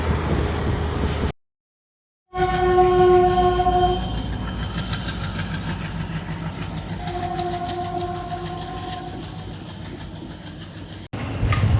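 A train rumbles past up close at a level crossing in Guwahati with wheels clattering over the rails, and its horn sounds in two long blasts while the heavy rolling noise continues.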